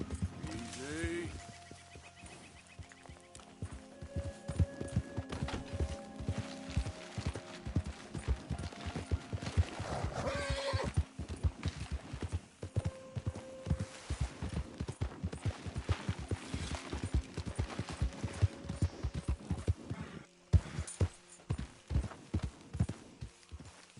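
Horse hooves clip-clopping in Red Dead Redemption 2, a rapid uneven run of close hoof strikes with occasional mechanical clatter and a brief whinny, set under background game sounds.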